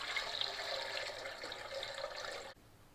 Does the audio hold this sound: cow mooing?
no